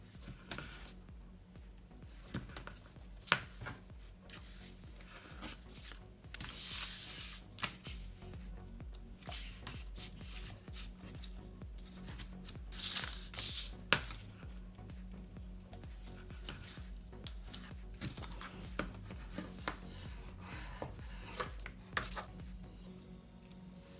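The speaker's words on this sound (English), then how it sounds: "Now I'm going to close this cracker with double-sided tape." Double-sided tape is pressed and smoothed to close a folded paper Easter cracker, producing dense, close rustling, crinkling and sticky peeling sounds that continue steadily and unevenly throughout.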